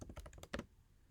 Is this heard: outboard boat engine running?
no